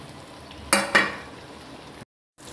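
Chopped tomatoes hit hot oil in a pan with two sharp sizzling bursts close together, then a low steady frying hiss before a brief cut to silence.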